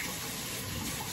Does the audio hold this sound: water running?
yes